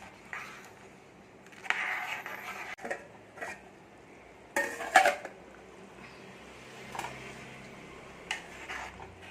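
Mutton trotter (goat leg) gravy being stirred in a pot, with scattered scraping and clinking bursts of a spoon against the metal, mostly quiet and sparse between strokes.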